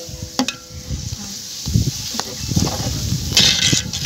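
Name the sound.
white chickpeas added to a pot and stirred for pulao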